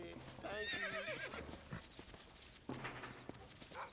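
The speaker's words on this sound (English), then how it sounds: "Oh, you might need your horse, mister." Horse in a Western video game gives a loud whinny, then its hooves clip-clop in short uneven beats close by, with a second brief neigh later.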